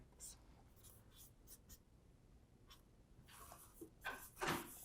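Handwriting with a pen or marker, heard as faint scratchy strokes in short irregular bursts, quiet and close, with a few slightly louder strokes near the end.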